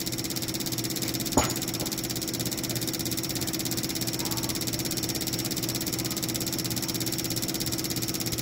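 Fuel injectors on a flow test bench run at wide-open pulse width, maximum duty cycle, giving a steady, uniform mechanical buzz and hiss throughout, with one brief click near the start.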